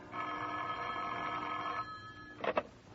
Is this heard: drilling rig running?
no